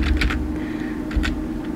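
Fingers type on a computer keyboard in short quick bursts of clicking keys, close and clear, with a pause between two clusters of keystrokes.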